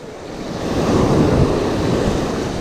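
Sea waves washing onto the shore on a windy fishing outing, a rushing surge that swells louder midway with wind buffeting the microphone.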